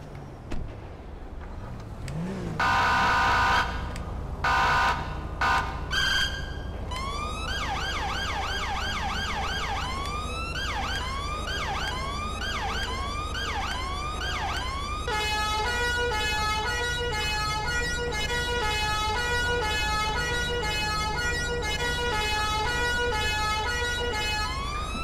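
A loud British police car siren cycling through several patterns: short blips, rapid rising wails, then a fast warbling yelp, continuous and close throughout.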